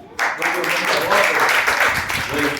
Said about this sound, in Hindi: इस्तकबाली ताली बजा दो दूसरे बच्चे